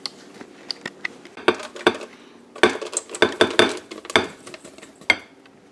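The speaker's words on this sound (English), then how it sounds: "I'm going to take my dry ingredients and I'm going to mix them over here gently into my" Dry ingredients are stirred into wet brownie batter for a keto brownie cheesecake, with a utensil clinking and scraping against the bowl in irregular close taps, some sharper than others.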